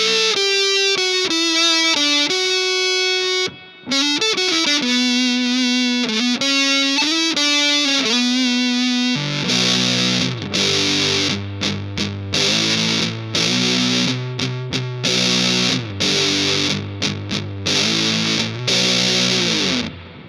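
An electric guitar plays through a Big Muff fuzz pedal, its thick, saturated tone sustaining long notes and then switching to choppy, heavy chugging riffs, loud and continuous with no talking.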